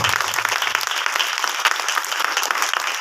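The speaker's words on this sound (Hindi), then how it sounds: "ताली बजाकर प्रभु का धन्यवाद" A church congregation at a prayer meeting in Rajnandgaon clapping to thank the Lord, a loud continuous burst of many hands clapping together that carries through to the end.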